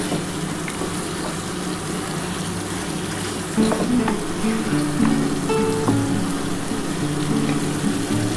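Chicken kosha with yogurt sizzles steadily in a pan, with scraping stirring strokes and clinks becoming louder partway through, and no talking.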